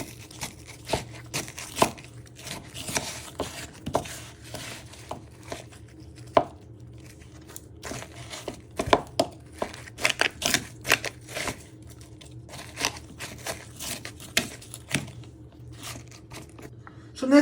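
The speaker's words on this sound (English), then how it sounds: "you're going to chop your butter into little pieces" A knife chopping butter into little pieces on a board for toffee apple buns, giving quiet, irregular sharp taps and crunchy cuts in quick clusters, close and alone.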